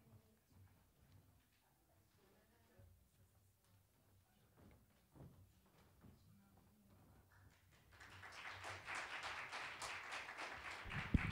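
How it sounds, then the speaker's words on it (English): An audience at a Springfield Community TV lecture-series event claps for a singer: a quiet stretch of faint taps and small room noises gives way, in the last few seconds, to a swelling burst of dense, close clapping. "Oh, you guys clap for me."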